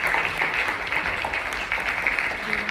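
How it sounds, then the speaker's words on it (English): An audience claps steadily at a Holocaust survivor's talk, with dense, moderately loud applause continuing throughout. "Big round of applause."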